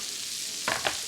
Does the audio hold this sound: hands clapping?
no